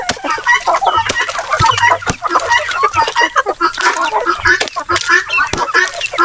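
Native chickens cluck and call at feeding time, a dense, busy flock chatter of overlapping clucks and short squawks close by, continuous throughout with no talk.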